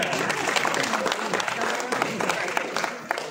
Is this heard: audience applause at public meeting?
yes